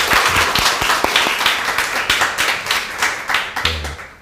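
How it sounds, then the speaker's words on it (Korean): Applause from a church congregation at a Sunday worship service, welcoming visiting pastors and a pastor's wife: steady, close, moderately loud clapping for about four seconds, with a few sharp individual claps punctuating the rhythm and no talk. "우리 뜨거운 박수로"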